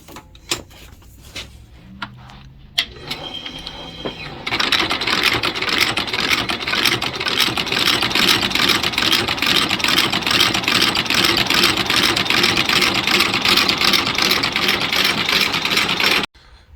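Finicky boot sole stitching machine sewing a new sole onto a pair of work boots, starting after a few clicks and then running loud and close with a rapid, steady mechanical chatter until it stops abruptly.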